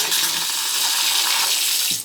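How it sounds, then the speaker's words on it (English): A bathroom faucet bought from eBay runs steadily in a renovated barn house bathroom, a close, continuous hiss of flowing water that cuts off abruptly at the end. "And then here's that faucet."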